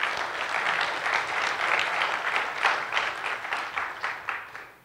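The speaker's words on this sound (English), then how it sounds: "you deserve a round of applause for yourselves" A conference audience applauds steadily after a closing keynote, dense clapping that swells slightly and then fades out toward the end.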